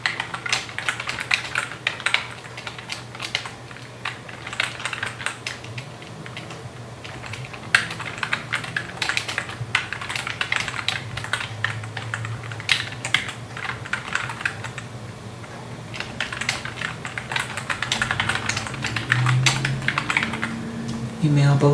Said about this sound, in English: I go to the header and just going to type in what my message is